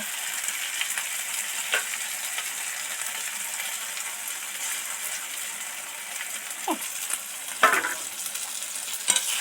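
Marinated eggs stirred into a pan of potato gravy frying in oil give a steady close sizzle and soft scraping, with a few sharp utensil clinks near the end.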